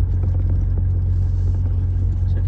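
A car rolls off the BR-226 highway into a dirt yard, its engine giving a loud, steady low rumble close by with faint crunching and bumping from the rough ground throughout.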